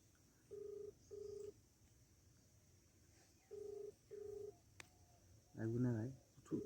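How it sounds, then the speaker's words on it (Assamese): A phone's ringback tone sounds in two paired bursts, pauses, then repeats, with no one picking up; a brief voice follows at the end. "ফোনটো লাগি আছে ৰ'ব উঠোৱা নাই ফোনটো"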